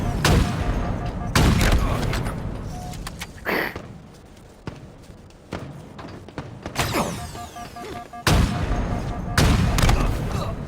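Repeated bursts of video-game gunfire in Halo, loud sharp volleys spread through the clip with short gaps between them, under and between people talking.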